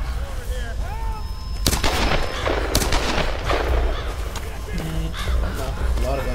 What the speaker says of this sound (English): A lot of gunshots here